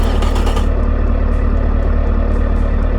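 A V8 engine from the Automation car-building game, crossplane or flatplane type, fires up and runs loud and steady, a dense, constant engine roar with no talk over it.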